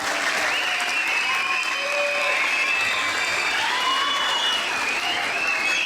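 A large crowd at a Quran course ceremony applauds students' parents, producing a loud, dense, continuous wash of clapping that holds steady throughout, with a few raised voices and whistles ringing above it.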